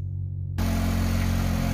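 A car engine idles after an oil change, warming up with a steady mid-pitched hum that jumps louder as it settles into a constant, close idle, with no talking.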